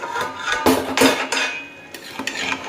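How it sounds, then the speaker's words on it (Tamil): Cooked coconut rice stirred in a pot, a few sharp metal scrapes and knocks of a spoon against the pot, close and loud with short gaps between strokes. "சாதத்தை கிளறி விட்டுக்கலாம்."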